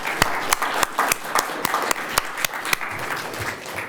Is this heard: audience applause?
yes